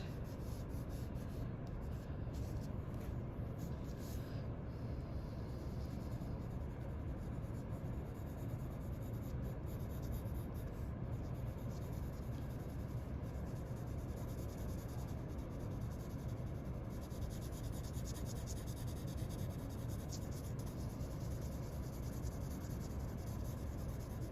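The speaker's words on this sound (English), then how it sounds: "with your pencil, just to do some really light shading and just kind of to gradually work on it" A pencil lightly shading a drawing on paper, a soft continuous scratchy rubbing that runs steadily and close throughout with small variations in pressure.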